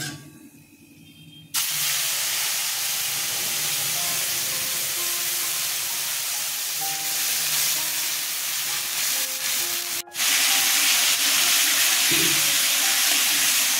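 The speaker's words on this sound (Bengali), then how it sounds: "জিরে ফোড়ন দিলাম, আদা পেঁয়াজ লঙ্কা ছেড়ে দিচ্ছি" Ginger, onion and green chili hit hot oil with cumin seeds and dried red chili tempering, bursting into a loud, steady, close sizzle after a quiet start, with one brief dip before the hiss resumes at full strength.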